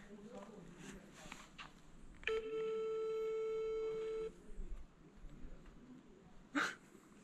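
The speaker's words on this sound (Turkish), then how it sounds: "Gerçi ev telefonu kullanan insan çok kalmadı ama çalması garip." A ringing landline home telephone, heard from inside an apartment building in the abandoned closed-off district of Varosha, Famagusta, gives one long steady electronic ring lasting about two seconds, with faint talk and movement around it.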